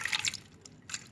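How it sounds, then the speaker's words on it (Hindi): Half a glass of water poured into a pot of sweet potatoes, giving faint splashing and trickling bursts, a short spill, a pause, then another brief splash, quiet and close. "अब हम इसमें आधा गिलास पानी का ऐड करेंगे।"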